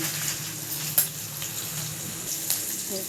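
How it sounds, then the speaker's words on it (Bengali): Chopped onion frying with a little salt in oil alongside whole spices, a steady close sizzle with light stirring scrapes and a couple of soft utensil clicks. "পেঁয়াজটা তাড়াতাড়ি ভাজা হবে জন্য একটু নুন দিয়ে দিলাম।"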